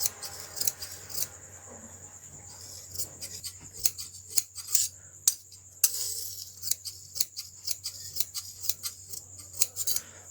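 Scissors snip through kameez fabric in a quick run of crisp, close cuts, each sharp slice separated by brief pauses, with faint rustling of cloth between strokes and no talking.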